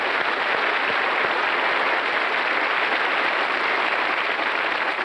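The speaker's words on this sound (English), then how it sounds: "Let's give them a big cheer and a lot of encouragement." Studio audience at a game show series final applauding and cheering the four finalists, a steady dense wash of clapping that holds loud and even throughout, with no voices over it.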